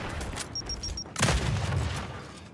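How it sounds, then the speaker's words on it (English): A frag grenade goes off in the video game Gears 5 as a short bright beeping tone, then a sudden loud boom with a rumbling tail, heard without talk. "Grenade planted. Frag out!"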